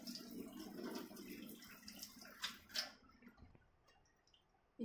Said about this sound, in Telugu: ముందుగా మనం నానబెట్టుకున్న రైస్ని 1-2 సార్లు బాగా కడిగేద్దాము